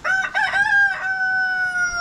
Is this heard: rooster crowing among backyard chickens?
yes